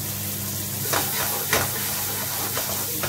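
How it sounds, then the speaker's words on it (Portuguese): Onion frying in a pan, a constant loud sizzle with a few scraping stirs breaking through, close and without talk. "agora vamos fritar a cebola"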